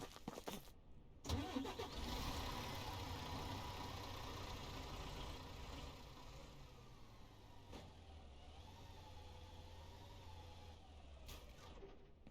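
A truck engine in Ranch Simulator cranks and catches with a sharp start, then settles into a steady low idle that runs on, fairly quiet, with no talking.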